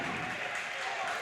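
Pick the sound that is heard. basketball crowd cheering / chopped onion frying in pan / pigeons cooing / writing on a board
basketball crowd cheering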